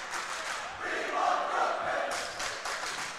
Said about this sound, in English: the crowd's calling for him now